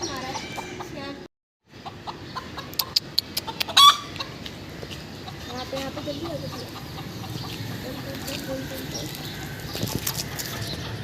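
Chickens cluck and a rooster crows at a farmhouse in Pakistan, the calls near and fairly loud over steady background noise, with short sharp peaks around the fourth second and people talking intermittently.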